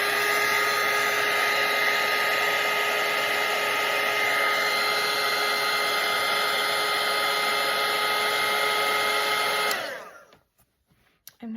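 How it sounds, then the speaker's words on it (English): A hair dryer blows steadily over a watercolour painting, a loud constant whirring hum for nearly ten seconds before it is switched off, leaving near silence. "I just dried it with the dryer."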